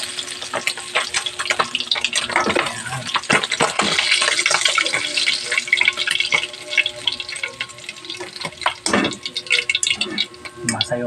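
Vegetables frying in a pan for a sautéed dish with shrimp paste and leftover meat, a steady close sizzle broken by utensil scrapes and clanks, with voices now and then.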